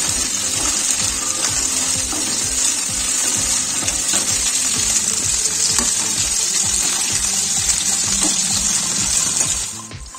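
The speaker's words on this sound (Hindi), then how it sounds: "आलू डाल देंगे अब इन दोनों को हम फ्राई कर लेते हैं" Loud, steady sizzling of potatoes and cauliflower frying in hot oil over a medium flame, a continuous crackling hiss that fades slightly at the very end.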